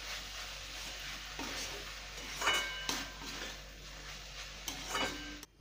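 Chopped coriander leaves being stirred in a cooking pan, a soft scraping and gentle sizzle with a few light clinks of the utensil against the pan, close and steady throughout.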